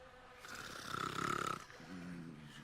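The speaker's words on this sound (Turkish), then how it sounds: "Horlama sesi var lan." A man snores in the video game Call of Juarez Gunslinger, one long, loud rasping breath that swells and fades, followed by a softer humming exhale.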